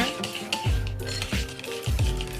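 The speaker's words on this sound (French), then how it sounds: "donc on mélange bien la préparation" Brownie batter made without butter is stirred in a bowl, a spoon scraping and clinking against the sides in repeated rhythmic strokes, close and clear.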